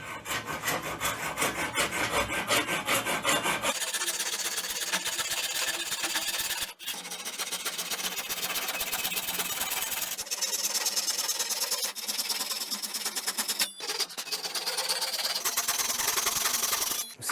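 A hand saw grinds through hard wood in long continuous rasping strokes, steady and close, with brief pauses and a shift in tone partway through.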